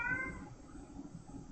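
A short, faint meow from pet cat Kiba opens the moment, then fades into low room hum.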